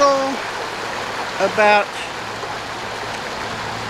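A small spring-fed waterfall, about 1.5 to 2 feet high, in Del Rio, Texas, gives a steady broadband rushing wash throughout, with a brief voice speaking over it partway through.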